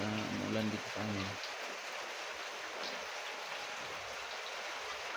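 Light rain falling outdoors, a steady soft hiss of drops with a brief spoken voice at the start, then the rain continues alone at an even, moderate level.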